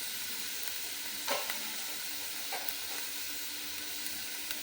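Onions sizzle and fry in hot oil in a pan for a chicken curry, a constant crackling hiss with a few louder spits as they are stirred.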